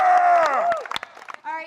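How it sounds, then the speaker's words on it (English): Cheering and shouting from a press conference audience greeting the Suicide Squad cast, loud and excited at first with sustained whoops, then breaking into scattered calls and claps before another swell of voices. "Give them a massive round of applause."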